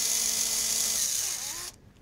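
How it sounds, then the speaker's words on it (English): A power drill with a 1/2 inch bit bores holes into a brass-leg side table, a steady loud whine running about 1.7 seconds before cutting off abruptly, then near silence. "With a 1/2 inch drill bit, you drill directly down"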